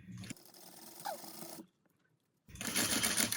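A sewing machine stitches along the edge of a drapery panel, running steadily, stopping for about a second, then starting again louder and closer.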